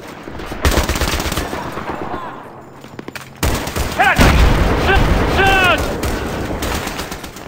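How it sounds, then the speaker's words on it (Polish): Gunfire in a Battlefield 3 combat match, with bursts of rapid automatic fire and heavy launcher thumps and booms, loud and close, mixed with game voices and chatter. "To nie jest strzał, to jest ten... granatnik"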